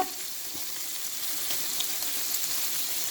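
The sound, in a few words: chopped chicken frying in pan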